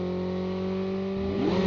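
A Call of Duty Mobile vehicle engine hums steadily, then climbs in pitch as it revs up near the end, loud and close, with no talking over it.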